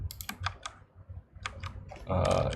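Computer keyboard typing comes through as quick bursts of close clicking keystrokes with short pauses between, ending in a denser flurry of keys.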